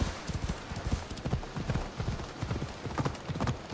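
Horse hooves clop in a quick, steady rhythm as a rider gallops along a beach in the video game Assassin's Creed Odyssey, close and clear.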